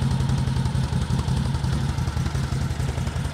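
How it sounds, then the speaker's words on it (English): CFMoto CForce ATV with a V-twin engine running, a deep, throaty, steady idle with a low pulsing rumble and slight clatter, close and even with no talking. "has a really good deep throaty sound to it. You can tell you're on a V-twin."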